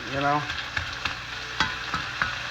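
Taco meat frying in a pan gives a soft sizzle, with a few light scrapes and stirring taps spaced through the short stretch.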